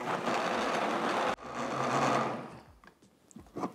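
Blender or grinder grinding toasted ingredients with chicken broth for a Salvadoran chicken sandwich sauce. A dense, loud whirring stops abruptly, runs again, then fades into clattering handling sounds.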